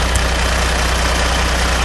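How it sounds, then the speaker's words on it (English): A Kenworth T800 truck with a Cummins engine sits idling close by, giving a loud, steady, rumbling drone with no changes in pace, heard alone. "We're listening to the idling of a Kenworth T800."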